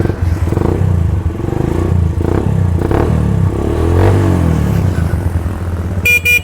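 A four-stroke 250cc motorcycle engine idles and revs up loudly nearby, its steady throbbing rising and falling, with a brief horn-like tone at the end.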